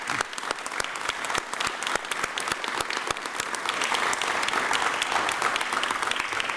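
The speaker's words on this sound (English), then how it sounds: "they deserve the biggest round of applause right now" An audience claps steadily and fairly loudly, a dense spread of hand claps that keeps going without pause and with no talking over it.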